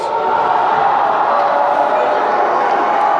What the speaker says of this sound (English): The crowd likes that little move from Hudson Perry to get himself some separation.